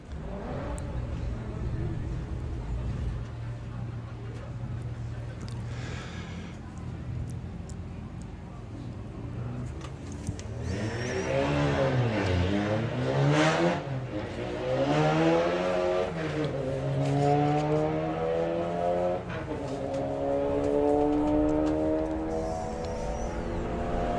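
Drag racing at Bug Jam, including a Vulture Racing Skoda Octavia, with a low engine drone building into loud rising revs and gear changes as cars launch and pull away, under continuous announcer commentary.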